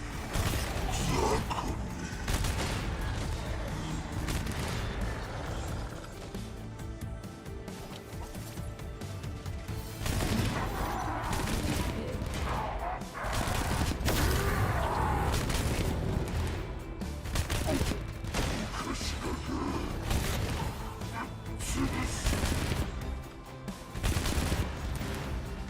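Turrets fire in an Arknights battle, a dense, busy clatter of repeated shots and mechanical bursts with booming hits, loud and sustained, mixed with game music and effects.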